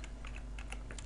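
Fingers type code on a computer keyboard, a quick run of soft, close key clicks over a faint low hum.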